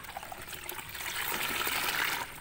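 Homemade insecticide liquid is stirred with a plastic water dipper, a close, soft sloshing and trickling that builds slightly toward the end.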